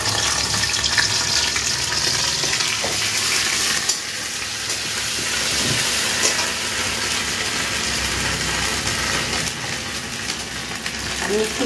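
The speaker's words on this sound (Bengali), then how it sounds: "আমি একটু জল দিয়ে দিচ্ছি আদাটা যাতে পুড়ে না যায় তার জন্য।" Water poured into a pan where ginger paste and black cumin seeds are frying, giving a continuous hissing sizzle and watery rush that stays steady throughout with no talk.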